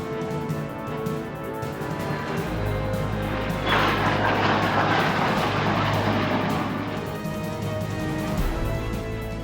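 A carrier-based ground attack jet from the Vietnam era flying past, with a loud sustained engine roar that swells near the middle and holds steady, with no talk over it.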